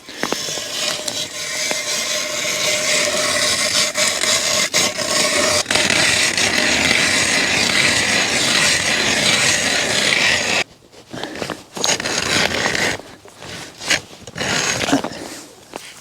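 A hand ice auger grinds through thick lake ice while hard-water fishing, a steady rasping scrape that runs continuously for about ten seconds before breaking into shorter, uneven bursts as the hole nears completion.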